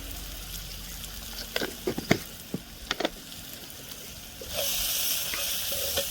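Spices for a Gujarati tadka sizzle in hot oil for panchkuti dal, starting with scattered faint pops and crackles and then swelling into a steady hiss.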